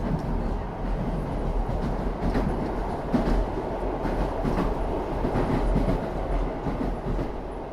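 A passenger train runs steadily along the rails on a cross-border journey, its rumble and clickety-clack of the wheels continuing for several seconds without any talk.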